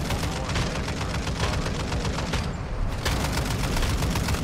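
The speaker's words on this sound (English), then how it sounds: "I'm hearing shooting to the left." Dense, continuous automatic gunfire in the DMZ video game, loud and sustained with rapid overlapping shots and one brief lull.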